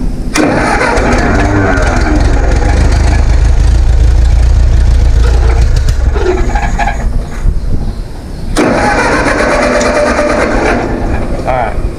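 A vintage tractor engine, running rough after work on the distributor rotor and cap, starts and then runs loud and steady close by, with a brief dip before it carries on.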